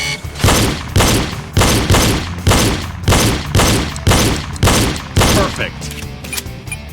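Pistol shots crack out in a steady series of about nine loud, evenly spaced reports during a reload drill at a firing range, each with a short echoing tail.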